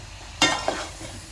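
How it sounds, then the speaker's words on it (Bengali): Chopped bottle gourd stirred in a cooking pot gives one short, close scrape with a soft sizzle, then fades back into quiet kitchen background with no talking. "এখন আমি ভালো করে নাড়াচাড়া দিয়ে ঢাকনা দিয়ে ঢেকে দেব।"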